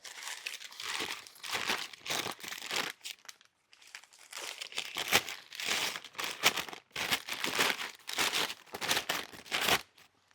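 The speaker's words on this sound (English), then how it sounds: "The first thing we're going to be taking out of our box is some packing paper." Packing paper crumpled and crinkled while being pulled out of a shipping box holding a DIY large cajón kit, a steady run of close, dry crackling bursts with only brief pauses.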